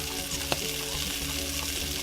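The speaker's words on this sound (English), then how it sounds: "And all I'm doing is just stirring, stirring, stirring." Cornmeal polenta being stirred in a pot, a soft continuous bubbling and scraping with one brief louder knock of the spoon against the pot.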